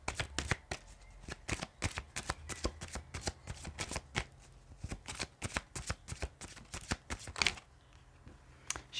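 Tarot cards are shuffled by hand close up, giving a rapid series of sharp riffling bursts and slaps in an irregular rhythm, with brief pauses between rounds.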